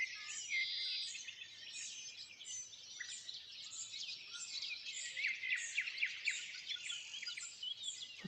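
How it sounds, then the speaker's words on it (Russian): Nightingales sing on a warm May village morning, with high chirps, trills and rapid repeated notes layered over one another. The song is fairly faint and distant but continuous, over a quiet background. "Вот послушайте, как поют птицы."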